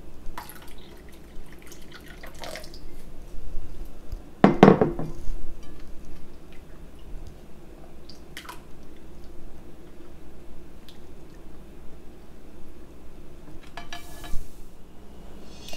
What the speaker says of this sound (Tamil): இதில் இன்னும் கொஞ்சம் தண்ணி ஊற்றி நல்லா கலந்து விட்டுக்கலாம்.